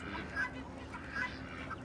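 Geese and ducks on a farm honk and quack in a few short calls over steady background noise, with a person talking nearby.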